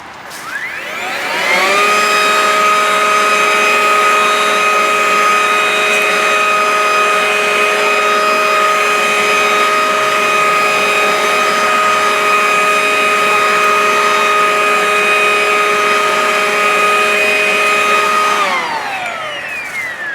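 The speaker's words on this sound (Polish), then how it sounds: "Założymy worek i odkurzamy przełączone mamy na odkurzanie" Ryobi OBV18 cordless leaf blower vacuum switched to vacuum mode with a bag fitted, spinning up into a loud, steady high-pitched whine, holding for about seventeen seconds, then winding down.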